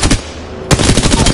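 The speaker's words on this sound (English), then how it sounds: "Getting shot at. Firing." Automatic weapon fire in an Apex Legends match: a short spatter of shots, a brief lull, then a loud, close, rapid stream of gunfire that continues to the end.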